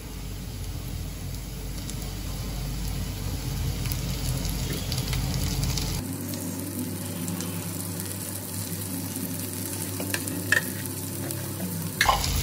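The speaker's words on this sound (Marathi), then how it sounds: "मिरचीला पण मी चांगलं या तेलामध्ये परतून घेते" Green chili and tomatoes sauté in hot oil for a dried bombil chutney, a steady close sizzle with stirring scrapes and a brief clatter near the end, no talk.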